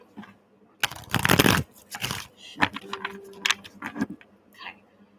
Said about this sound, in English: Got one more shuffle.